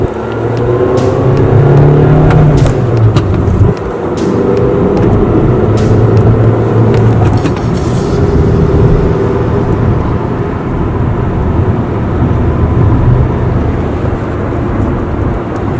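A turbocharged car running on 93 octane fuel drives along, its engine and road rumble a steady, loud cabin drone with occasional rises in revs and a few clicks early on.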